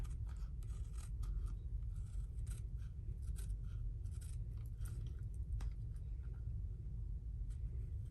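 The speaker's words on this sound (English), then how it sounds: "I have some older Stampin' Up scissors that I will use. Just be real careful when you're cutting this," Older Stampin' Up scissors cut through paper for a Paper Pumpkin craft kit, giving steady, fairly quiet snips and rasps over a constant low background rumble, with no talking.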